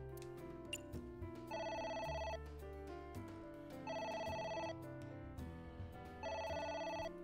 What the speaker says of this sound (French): Voilà, j'ai un coup de téléphone